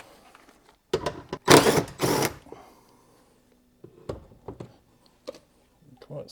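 A power driver undoes door screws on a Vauxhall Corsa D, giving two short loud whirring bursts near the start and a few quieter clicks and brief buzzes after, with quiet gaps between them.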